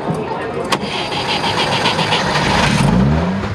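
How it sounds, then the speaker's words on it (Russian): A 60-year-old restored GAZ-69A vintage car engine cranks and catches, then rises into a steady, loud running rumble. Brief voices sit under the engine noise. "Александр заводит свою детскую мечту – ГАЗ-69А"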